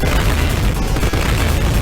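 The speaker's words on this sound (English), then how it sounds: "Fireworks." Dense, loud booming fireworks explosions from the Mega Drive/Genesis game RoboCop vs The Terminator, a continuous roaring barrage of blasts with no pauses.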